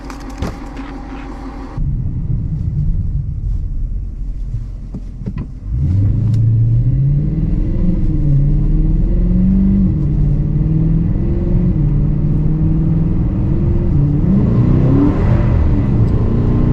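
A Dodge Challenger R/T driving on a snowy, salted street, its engine droning steadily at low pitch and then revving up with a rising pull near the end, loud and close.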